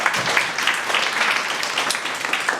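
A crowd applauds a guest of honour arriving at a Swami Vivekananda Jayanti celebration, a dense, even round of clapping from many hands that holds steady throughout.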